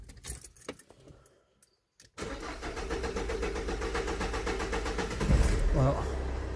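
A car with a Delphi injection pump is started after pump work: keys jangle and click, then the engine cranks, catches and settles into a steady idle close by, with a brief rev near the end; people talk around it.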